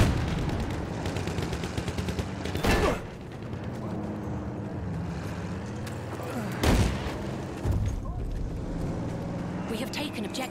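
Gunfire in Battlefield 1, including a Chauchat light machine gun, with heavy bursts near 3 and 7 seconds over a steady rumble of battle and engine noise, and a few more shots near the end.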